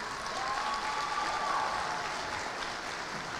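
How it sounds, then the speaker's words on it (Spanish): A graduation ceremony audience gives sustained, even applause, heard from a distance as a steady wash of clapping. "Fuertes aplausos."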